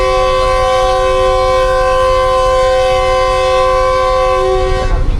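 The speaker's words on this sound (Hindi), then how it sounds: "और फर्स्ट डिपार्चर विसल भी हो गया।" A long, steady train whistle sounds loud and close for about five seconds as the Pak Business Express departs its platform, the sustained tone running unbroken under a rumbling low background before cutting off near the end.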